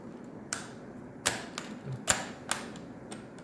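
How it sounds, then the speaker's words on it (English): Keycaps pop off an MSI gaming keyboard with a keycap puller, giving five or six sharp plastic clicks spaced about half a second apart over a quiet room background. "So you can use this tool to remove this keycaps."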